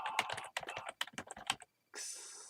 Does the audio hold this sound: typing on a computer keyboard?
yes